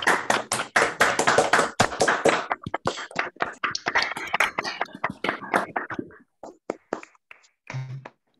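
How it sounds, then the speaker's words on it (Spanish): Audience applause following a physics lecture, a burst of many clapping hands that thins out into scattered individual claps over several seconds. "abramos los micrófonos y demos un fuerte aplauso por esta muy bonita plática de Pablo"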